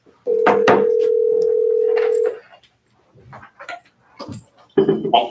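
A telephone tone sounds over a speakerphone in a county commissioners' meeting room, one steady loud two-second tone, followed by faint room noise and a burst of talk.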